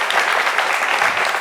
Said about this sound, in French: Merci de les encourager par vos ovations.